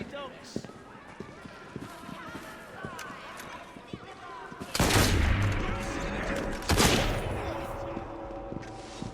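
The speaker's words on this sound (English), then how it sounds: "Draw and shoot!" Gunfire in the video game Assassin's Creed Syndicate comes as sharp scattered shots and thumps over game ambience, with two louder bursts of noise in the second half, and voices speak in the background.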